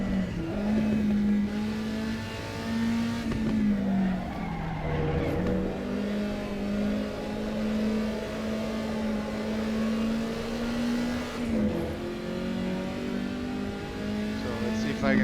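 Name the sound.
car driving a lap in Assetto Corsa, video game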